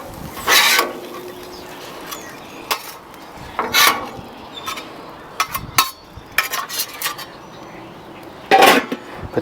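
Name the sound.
lid put on a metal hotel pan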